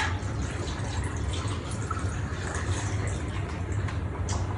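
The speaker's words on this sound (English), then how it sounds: "over your cocktail glass of choice, we're going to pour Sugar Me Timbers." A Sailor Jerry "Sugar Me Timbers" cocktail is poured from a shaker into a cocktail glass, a steady close trickle of liquid running for several seconds without talk.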